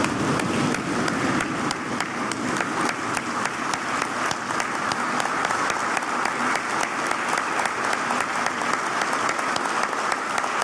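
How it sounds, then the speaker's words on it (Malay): Sustained standing applause from a large gathering honouring frontline workers during the pandemic, a dense, loud and steady wash of many hands clapping throughout with no voices standing out. "memberikan tepukan yang gemuruh kepada semua wira dan wirawati petugas barisan hadapan negara"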